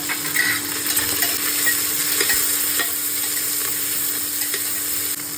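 Two large onions, cut long, and curry leaves frying in a pan, with a loud, steady sizzle and occasional light clinks of a stirring spoon, close up.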